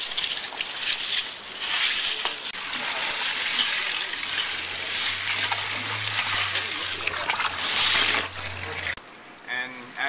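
Water trickling and dripping out through holes in the bottom of a container of freshly washed gravel for an aquaponics fish tank, a steady splashy wash running throughout with a low hum joining partway.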